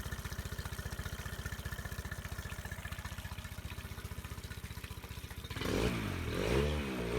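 A new Yamaha 25 hp four-stroke outboard motor idles with a steady, rapid low putter after starting, then surges louder and rougher near the end as it revs up.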